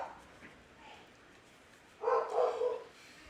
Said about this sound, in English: I don't know what my dog's barking at.